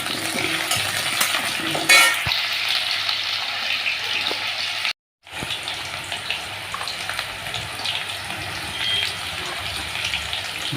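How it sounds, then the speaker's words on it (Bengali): Potatoes sizzle in a hot wok while being stirred, with scraping and clattering against the metal, a brief dropout midway, then steady frying again. "কড়াইয়ে আলুগুলো ছেড়ে দিয়েছি, এবার নেড়ে নেবো"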